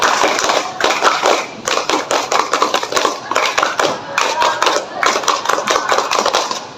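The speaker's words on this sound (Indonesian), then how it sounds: "2 kali tepuk pramuka." Students in a seventh-grade PE class clap the Indonesian scout clap twice in a row, two rounds of rapid rhythmic group clapping with a brief pause between, close, bright and loud, with a faint voice underneath.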